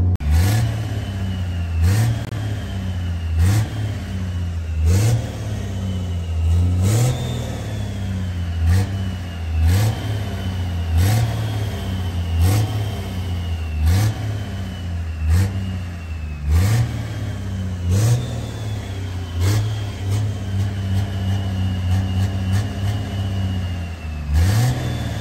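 A 1500HP Cummins diesel engine idles loud and close with a lumpy, uneven rhythm, repeated low surges and sharp periodic knocks every second or so, and no talk.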